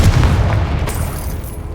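A Confringo fire spell detonating in the wizarding game Hogwarts Legacy, a heavy, close, low boom at the start that rolls off into a rumbling decay.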